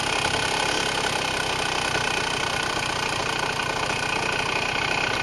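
A small red motorcycle engine runs steadily and loud on a night ride, a constant rumbling drone with a rapid pulse and no talk.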